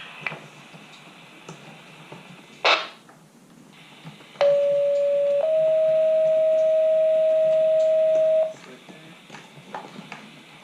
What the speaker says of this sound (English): College Command, stand by for tones.